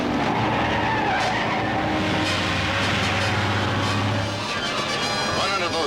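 A truck skidding hard as it swerves to shake off a man on its roof, a loud sustained tire squeal over engine roar, with a voice speaking over it.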